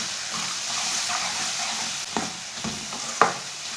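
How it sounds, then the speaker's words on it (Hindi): Spices with turmeric, coriander and cumin frying on low heat in a pan for egg curry, a soft continuous sizzle with a few spoon scrapes and clicks, close by and without talk. "सब मसालों को ना 1-2 मिनट के लिए भून लेंगे।"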